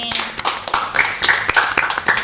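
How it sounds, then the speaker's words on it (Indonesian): Studio audience members clap by hand in a loose, uneven burst of sharp individual claps, close and fairly loud, at a youth talk show event. "Tepuk tangan dulu dong buat Man 3 Sleman ini."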